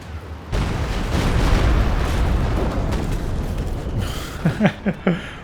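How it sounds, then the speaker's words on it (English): Stuka rocket salvo from Company of Heroes 2 landing around a heavy mortar team, a long loud rumbling barrage of blasts followed by a few sharp separate bangs near the end. "Walking Stuka rockets landing either side of the heavy mortar team."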